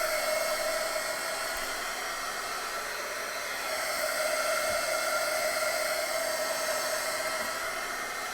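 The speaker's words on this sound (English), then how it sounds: "Gives it a shot with her heat tool." A heat tool drying a junk journal cover blows with a steady, loud whooshing hiss and motor whine that runs unbroken from start to finish, with no talking.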